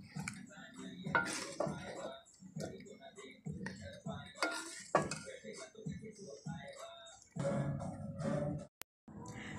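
A metal spoon scrapes and clinks against a cooking pot as pea and meat curry is dished out in a village kitchen, with intermittent clatter while someone talks throughout.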